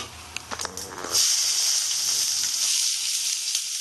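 Chopped onion drops into hot oil already tempered with fenugreek and black cumin, breaking into a loud, steady sizzle that carries on alone after a brief clatter, for a Bengali-style soya bean dish.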